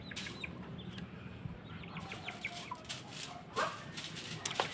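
A rooster clucks softly close by in a noisy outdoor setting, with scattered short calls and rustling, and no speech.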